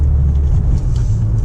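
A Mercedes W210 car with an OM606 diesel engine attempting a burnout, heard as a loud, close, heavy low rumble that holds steady throughout, with no talking.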